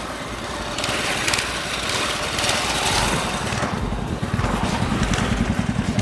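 A motorbike engine fires up and keeps running close by, a loud, buzzing, rapidly pulsing light-engine drone that holds steady and keeps going without any speech over it.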